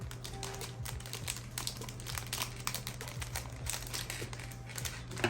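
Small plastic LEGO pieces clatter and tick continuously as they are poured out of a bag, with faint crinkling of the plastic, close and fairly quiet throughout.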